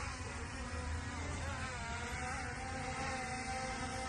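A small XT204 consumer drone takes off and hovers outdoors in a light breeze, giving a steady, whiny insect-like buzz. Its pitch wavers slightly as it holds position nearby.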